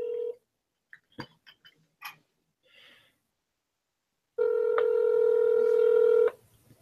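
A telephone gives a short tone, then a few quick dialing key beeps, followed by a steady, loud ringback tone lasting about two seconds.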